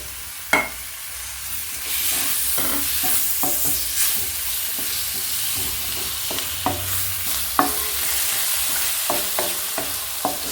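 Three medium tomatoes fry with spice powders in a pan for an egg drop curry, a steady close sizzle punctuated by regular spoon scrapes and knocks as the mixture is stirred, with no talking.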